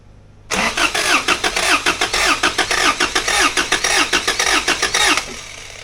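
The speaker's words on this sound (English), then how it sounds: "So that real offbeat cranking sound is a surefire sign of low compression." A Toyota 22R engine with low compression cranks on the starter in an uneven, lopsided rhythm of around twenty loud, close strokes over several seconds, then cuts out, leaving a faint hum.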